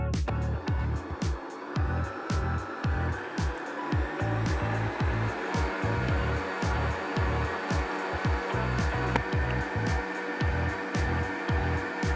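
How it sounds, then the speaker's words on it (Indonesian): Electric hand mixer whipping egg whites with lemon juice and salt at high speed for a marbled sponge cake, a loud steady whirring drone with rhythmic low thumps as the beaters knock the bowl throughout. "Lalu kita mulai mixer dengan kecepatan tinggi sampai dia berbusa banyak."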